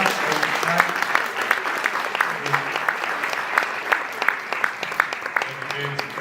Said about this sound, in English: please give them a big round of applause and thanks so much